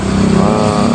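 Honda Karisma motorcycle engine with a clutch fault, idling loud and close in a steady continuous drone with a firm low hum and no talking.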